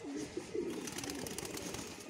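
A racing pigeon coos in low, repeated bursts, close by and steady over a faint background hum.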